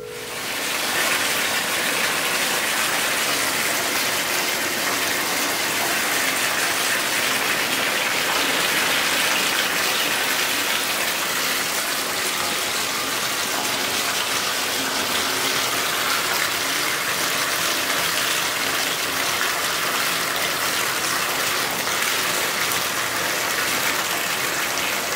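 Water pours steadily into a bathtub as a baby's bath is readied with soap added, a continuous broadband rush and splash holding constant and fairly loud for the whole stretch, with no voices.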